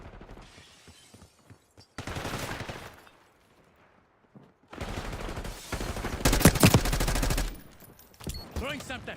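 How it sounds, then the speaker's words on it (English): XM4 assault rifle fire in Black Ops 6, loud bursts of automatic gunfire in several separate strings with gaps between, the final stretch densest and loudest. "this new gun, the XM4. Try this XM4 out."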